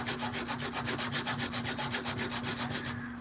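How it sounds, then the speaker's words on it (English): Sandpaper rubbed back and forth on a ring being reshaped, a close rhythmic scratching of about five strokes a second that carries on steadily for around three seconds and then stops. "You take some sandpaper."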